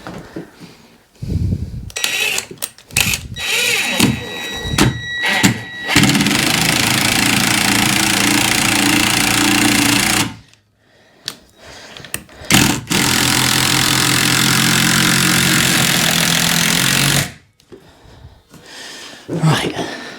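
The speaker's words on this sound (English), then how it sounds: "Now what I've got to do is drill into that now." A power drill bores into the wooden door of a garden shed in two sustained, loud bursts of several seconds each, the motor whining steadily, with short handling noises and talk before and between them.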